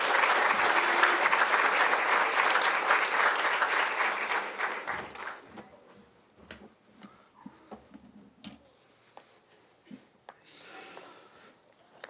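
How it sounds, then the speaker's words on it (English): A crowd at an academic honors reception claps loudly for several seconds, then the applause fades into a few scattered claps and small room noises. "Very impressed with all the cheering, the woo-hoos."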